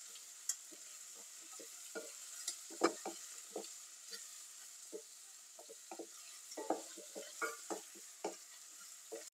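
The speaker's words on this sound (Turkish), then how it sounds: "Havucu mutlaka bu şekilde önden bir kavurun ki o şeker lezzeti de dışa çıksın" Carrots stir-fry in a pan with a soft continuous sizzle, punctuated by irregular clicks and scrapes of stirring close by.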